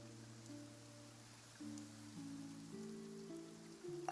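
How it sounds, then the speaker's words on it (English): Rain falls in the video game Genshin Impact as a soft, steady hiss beneath gentle sustained music tones, quiet and even throughout. "It's raining."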